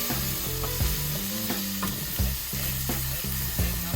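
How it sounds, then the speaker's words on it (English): Vegetables fry in a pan for a Jamaican-style vegan dinner, a steady sizzle broken by rhythmic scraping and clattering as they are stirred repeatedly, close and fairly loud, with no speech. "give that a quick little mix around"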